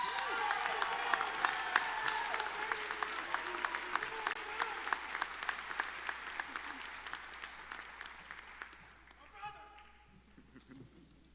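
A commencement audience applauds to welcome a speaker with dense, continuous clapping that fills the hall, then thins and fades near the end.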